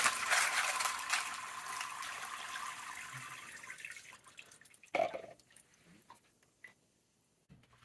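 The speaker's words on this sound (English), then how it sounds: "I'll just rinse these off." Water runs and splashes over tumbled rocks and ceramic media in a sieve for about four seconds, then stops, leaving a few scattered drips and clinks.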